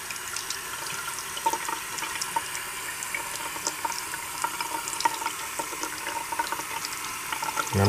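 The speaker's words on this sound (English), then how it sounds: "now I'm going to put a little water on it" Tap water runs steadily onto a toy figure being repainted at a sink, a continuous moderate splashing hiss lasting throughout with no talking.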